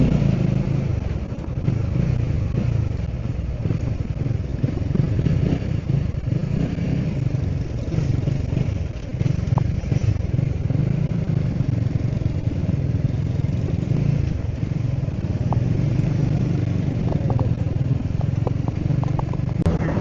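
A motorcycle engine runs steadily and loudly nearby, its low rumble rising and falling slightly as it idles and revs.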